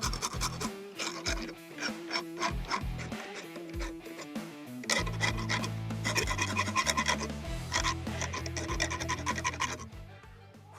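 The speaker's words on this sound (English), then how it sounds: "and then do some light cleanup with my file" Steel file rasping across a forged metal finial in quick repeated strokes, each stroke a loud, gritty scrape close up, with a busier, rougher run of strokes in the second half before it stops.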